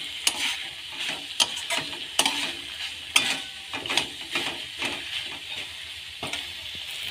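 Spices and mustard paste being stir-fried in a pan crackle and sizzle, with repeated scraping strokes of a spoon against the pan in an uneven rhythm.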